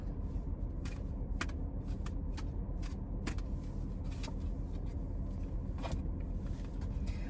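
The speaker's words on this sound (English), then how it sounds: "I'm going to shuffle one more time." Tarot cards shuffled by hand in a series of brief crisp riffles and flicks, scattered irregularly over a low steady background rumble.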